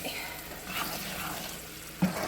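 Butter stirred in a pan for a steak dinner gives a close, steady sizzle and bubbling, ending with a short clack of the utensil against the pan.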